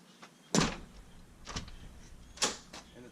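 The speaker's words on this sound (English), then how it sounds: "close the door" An RV door closes with a muted thud, followed by a couple of faint clicks, all quiet and close by.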